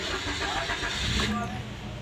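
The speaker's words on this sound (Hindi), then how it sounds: "इग्निशन ऑन करना है और गाड़ी स्टार्ट करनी है।" A Maruti Suzuki Swift petrol engine with long cranking, vibration and unstable running cranks and catches, rising into a rough running rumble, with a voice speaking over it.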